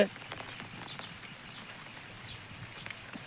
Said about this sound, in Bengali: কীরকম বৃষ্টি এসেছে